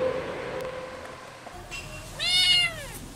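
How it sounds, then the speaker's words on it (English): Cat meowing from a tree in a game scene, a single drawn-out, wavering meow that swells and fades, heard alone after a quiet stretch of faint background noise. "One of these dangerous classical problems is a little kid's cat stuck in a tree."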